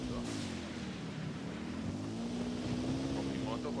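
In the video game Ghost Recon Wildlands, a motorbike engine drones steadily with a rising and falling pitch, mixed with wind rush and a voice talking over it.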